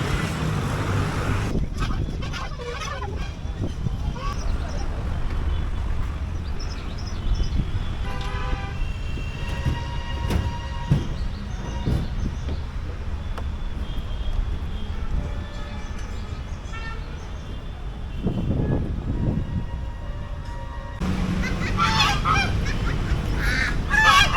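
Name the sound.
many birds, geese honking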